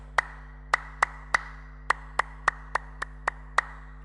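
Eleven sharp, crisp hand claps form the Indonesian scout clapping pattern (tepuk pramuka) at a school scouting introduction, grouped in an uneven rhythm over a steady low hum, with no talking.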